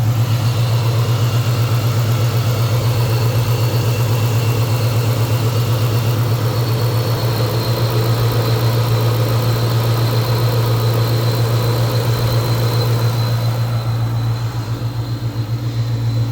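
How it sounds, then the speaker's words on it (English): A 2003 Ford Cobra engine idling with its new radiator fan running and the AC on: a loud, steady low engine hum with a continuous whooshing fan drone layered over it, unbroken and close throughout. "I turned the AC on, and it seems that the new fan works"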